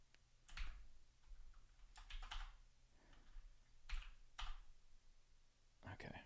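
Close keystrokes on a computer keyboard come in quick uneven bursts of clicks, with about five clusters of taps separated by short pauses over a faint steady hum.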